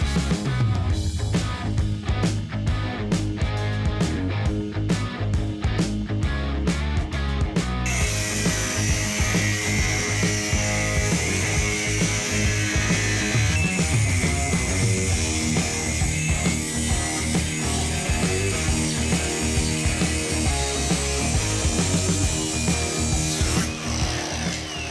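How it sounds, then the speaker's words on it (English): An angle grinder cuts through the rear half of a Honda CX500 motorcycle frame in a garage, a loud continuous metallic grinding whine with rhythmic scraping that runs for the whole stretch without talk. "Dangerous way to use the grinder."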